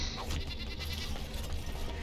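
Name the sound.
goat bleating in video game Dragon Age Origins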